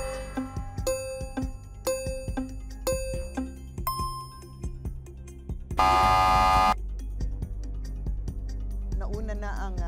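On a Filipino TV quiz show, a series of ringing bell-like tones and music is followed by one loud, harsh buzzer blast lasting about a second.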